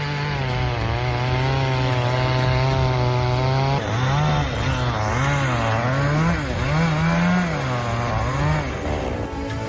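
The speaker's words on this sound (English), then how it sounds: "The chainsaw is like a steel monster," A big chainsaw cuts through a tree in a forest, its loud, continuous motor whine rising and falling in pitch as the chain bites into the wood, close and steady throughout.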